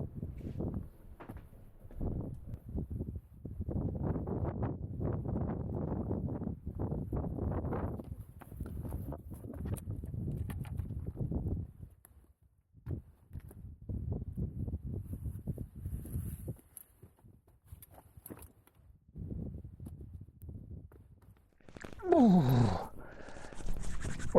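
Cold, wet wind gusts across a mountain summit and buffets close to the microphone in uneven bursts, with short quiet gaps between them and a sharper rush near the end.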